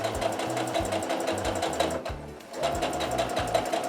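A sewing machine stitches a quilt block, its needle running in a steady rapid rhythm close by, slowing briefly midway before picking up again, with no talking.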